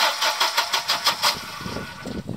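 A Volvo 240 starter cranks in a quick rhythmic whirr, several pulses, then the engine turns over into a rougher low rumble.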